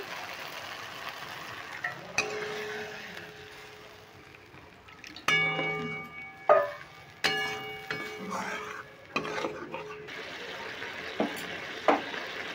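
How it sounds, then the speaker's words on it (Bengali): Water poured onto spice paste frying in oil for duck egg curry crackles in bursts of sizzling, with spoon clatter from stirring and a voice talking at times near the cooking. "এবার এখানে আমি সামান্য জল দিয়ে দিচ্ছি।"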